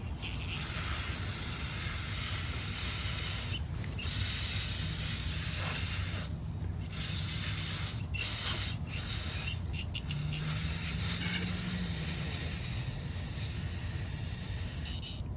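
Loud, continuous compressed-air hiss blowing debris out of a Craftsman self-propelled lawnmower with a Briggs Quantum 6.75 engine, broken by several short pauses between blasts.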